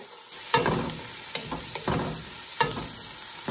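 Onion and garlic sauté in a pan for a Filipino sweet spaghetti sauce, giving a quiet sizzle under several sharp scraping stirs and spatula knocks.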